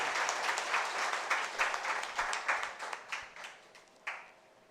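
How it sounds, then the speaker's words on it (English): Audience applause at a welcome for guests from Manipur, a steady burst of clapping from a crowd that thins into scattered individual claps toward the end. "Give a round of applause to our friends from Manipur."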